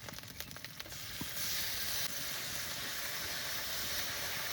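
Ground cumin and coriander paste dropped into a hot pan with onion, ginger and garlic paste, bursting into a loud hissing sizzle after some opening clatter, then holding a steady steamy hiss.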